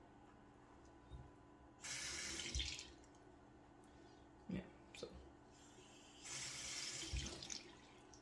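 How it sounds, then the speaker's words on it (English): Tap water runs in two loud bursts of about a second each, separated by quieter clatter and knocks from a cleaning job with a sponge, and a voice speaks briefly between them. "And then I'm gonna have to put water in it anyway."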